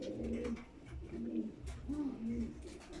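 Pigeons in a breeding loft coo softly and close by, several rolling throaty calls repeating in quick succession over a low background hum.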